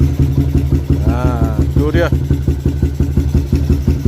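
A motorcycle fitted with an Espada exhaust, its fuel setting slightly rich, idles and runs steadily with a loud, close, pulsing rumble; a voice speaks briefly partway through.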